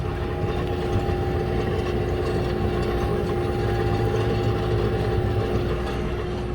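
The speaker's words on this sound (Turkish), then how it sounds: "Traktörümüz de Case 145" A heavy Case 145 tractor engine, 2012 model, idles with a low, steady rumble and a constant humming tone, close by and uninterrupted.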